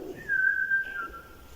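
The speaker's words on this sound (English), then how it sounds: "I could hear the whistling." A single faint whistle inside the Plaza Theatre in Northwich, a thin steady tone lasting about a second over quiet room noise, with no talk.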